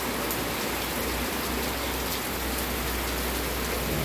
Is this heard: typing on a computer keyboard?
no